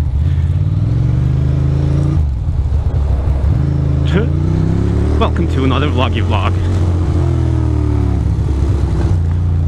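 A motorcycle rides through cold winter traffic in Brooklyn, New York, its engine a loud, steady low drone with rising and falling revs, while a rider talks over it throughout.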